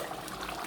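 A thick mixture bubbling in a pot on a hot stove, a steady close simmering hiss with soft gurgling throughout, no talking.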